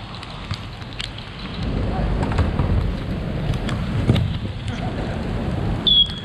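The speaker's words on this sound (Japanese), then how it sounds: "さあ非常に雨強くなってきましたが" Heavy rain pours onto an outdoor futsal court at Adidas Futsal Park Shibuya, a dense, steady hiss that swells and stays loud, with faint voices from players and a commentator.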